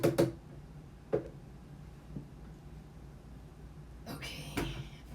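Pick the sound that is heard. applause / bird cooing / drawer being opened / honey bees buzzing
drawer being opened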